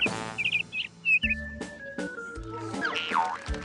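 A cartoon lark chirps in a children's phonics lesson, a few quick bright tweets followed by boing-like tones and a sliding whistle over light musical accents.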